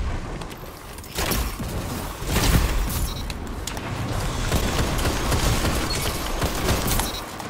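Rapid gunshots from a Nizam weapon in Destiny crackle in a dense, continuous barrage, loud and close, with sharp reports stacking over a steady roar of combat; no voices.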